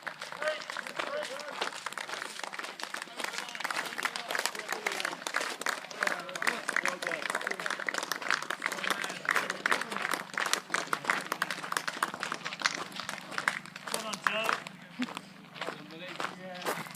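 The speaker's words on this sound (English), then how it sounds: "And those are the people clapping him on" People clap scattered and fairly softly for a returning cyclist at the end of a charity bike ride, the claps sounding a little distant over a murmur of voices and footsteps.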